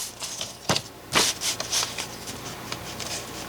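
Paper being cut for a junk journal insert, several close, crisp snips and rustles in quick irregular bursts.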